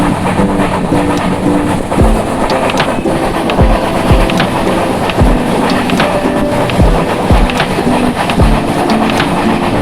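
Konkan Kanya Express train running on the Mumbai to Goa line, a loud continuous rumble with rhythmic clickety-clack of wheels over rail joints, heard close from on board.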